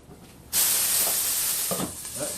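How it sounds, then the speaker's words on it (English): Food sizzling in a hot pan for a vegan lunch, bursting into a loud steady hiss after a quiet start, with a few scraping stirs near the end. "It's nice sizzling."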